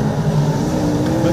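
A V8 dirt modified race car is pushed hard through a turn, its engine droning loud and close with a shifting pitch through the corner.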